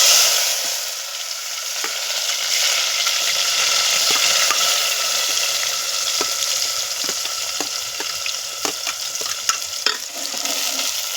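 Onion frying in oil with mustard seeds and cumin, a steady bright sizzle throughout with occasional stirring scrapes and small pops, close up and with no one talking.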